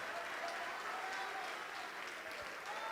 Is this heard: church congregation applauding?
yes